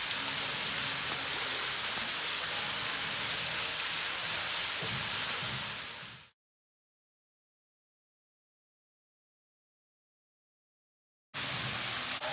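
Waterfall at St Louis Canyon in Starved Rock, Illinois, heard from close by as a loud, dense hiss and roar that cuts out to silence midway and returns abruptly at the end.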